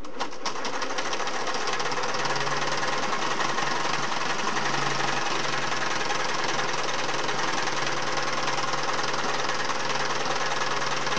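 A Singer Model 401A sewing machine fitted with a size 14 needle stitching fabric, producing a continuous, close, rapid mechanical whirring and clatter that holds steady for the whole stretch.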